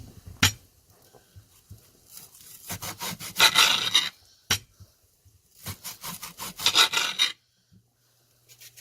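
A large knife cuts an onion into big slices on a cutting board, giving crisp rasping chops in two quick bursts with short pauses between them and no talking.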